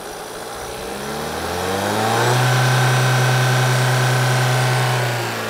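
A 2025 Cupra Leon VZ-Line 1.5 eTSI mild-hybrid engine revs up from idle, its tone climbing steadily to a held, limited plateau before easing off, loud and close with no talk.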